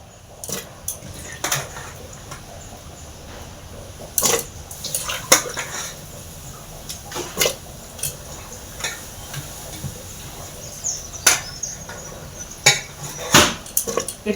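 Washed lentils and chopped bottle gourd tipped into a cooking pot, with repeated splashes, watery knocks and clinks of utensils against metal in a close kitchen, busy and irregular throughout, no voices.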